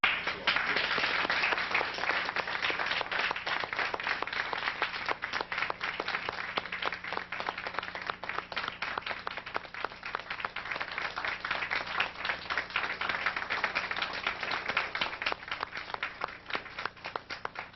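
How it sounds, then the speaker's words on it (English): An audience at a lecture on Kemet and religion gives a speaker a long, warm round of applause, dense steady clapping sustained throughout at even loudness. "give him a warm round of applause"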